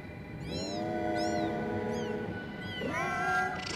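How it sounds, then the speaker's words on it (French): Several cats meowing, a mother cat with her kittens, in overlapping high-pitched calls that rise and fall; a thin kitten mew first, then longer, louder adult meows close by, with no talk. "Il y a le maman chat et tous ses chats."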